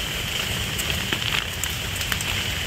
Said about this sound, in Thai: เสียดายแต่ฝนหน่อย